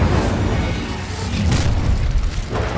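A fiery spell cast in the Hogwarts Legacy video game bursts out as a loud, dense roar across the whole clip, with booming low rumble and a brief flare of crackle midway.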